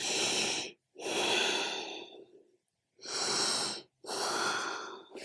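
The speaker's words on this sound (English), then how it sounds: "We're just going to take 2 deep breaths." Two pairs of deep, slow breaths during a pelvic floor exercise routine, each a long airy inhale and exhale, close and clear, with short silent gaps between them.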